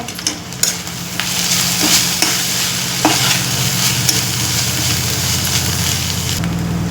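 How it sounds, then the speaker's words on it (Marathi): A drumstick leaf stir-fry with crushed peanuts is stirred in a pan, a steady sizzle running under repeated scraping strokes of the spoon, close and continuous with no talk. "आता यामध्ये आपण शेंगदाण्याचं कूट करून घेऊया मिक्स करूया"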